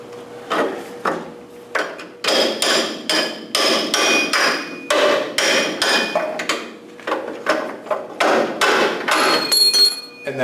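Repeated sharp metal hammer blows on the ends of bolts during car front coil spring removal, striking in irregular bursts, loud and close, with brief pauses between volleys.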